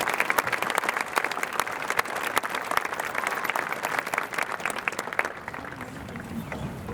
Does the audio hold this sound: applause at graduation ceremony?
yes